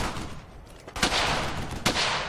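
Gunfire from the World War II shooter game Brothers in Arms: Hell's Highway: two loud, sharp shot bursts ring out over a dense rumbling battle backdrop, close and harsh, with no talking.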